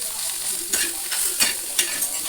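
Safflower leaf greens frying in oil give a soft continuous sizzle, broken by three or four quick spoon scrapes as they are mixed in the pan.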